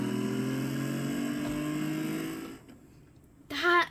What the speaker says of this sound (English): I think that's one of the best engine sounds you could hear.